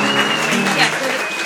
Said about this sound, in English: Round of applause very quickly for Maureen with a beautiful speech.